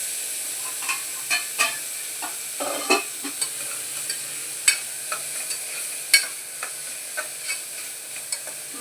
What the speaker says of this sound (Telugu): ఇది బాగా ట్రాన్స్పరెంట్ కలర్ వచ్చేంత వరకు రోస్ట్ చేసుకోవాలి.